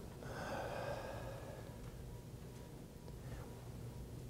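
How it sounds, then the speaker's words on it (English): A lecture audience exhales together after a deep breath, a soft broad whoosh of many people breathing out that fades over a few seconds in a large room, with no speech. "Take a deep breath with me right now."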